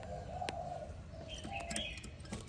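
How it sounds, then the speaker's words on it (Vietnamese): A young spotted dove of Malaysian stock coos in soft low notes, with a few sharper chirps and clicks in a quiet room. No one speaks over it. "con này có chiêu gù luôn anh em"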